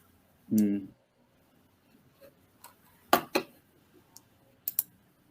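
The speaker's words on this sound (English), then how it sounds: "While Dad's typing" Typing on a computer keyboard makes a few scattered, quiet key taps and clicks in a quiet room, following a brief burst of voice at the start.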